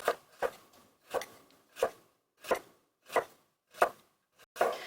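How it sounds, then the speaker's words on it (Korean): A knife slices a peeled carrot into flat pieces on a cutting board while preparing Chinese ulmyeon, producing seven evenly spaced, crisp chops close by with no talk. "그 다음에 이제 편을 썰어줍니다."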